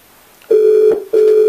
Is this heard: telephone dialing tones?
yes